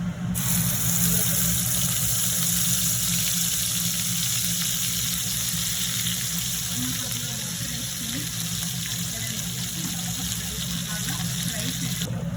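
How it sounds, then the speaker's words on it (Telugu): Ground masala paste fries in hot oil in a pan for an Andhra-style dondakaya curry, giving a continuous, even sizzle close up with no breaks. "ఇది ఆయిల్లోని బాగా ఫ్రై చేయాలి."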